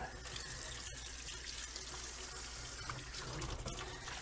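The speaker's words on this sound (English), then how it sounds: "giving the sink a quick rinse out" Tap water runs steadily into a kitchen sink as it is rinsed out, a continuous close splashing rush that holds level for the whole stretch with no talking.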